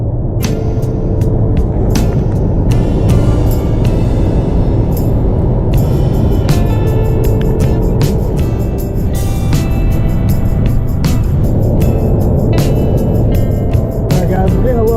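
A car driving on a road trip, heard from inside as a loud, continuous low rumble of engine and road noise with scattered rattles and clicks throughout.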